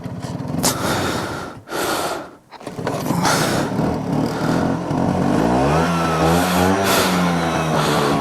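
A 1979 Vespa P200E scooter engine runs close by with a rough, sputtering idle that dips out briefly, then picks up and revs in rising and falling sweeps, loud and steady with no talking.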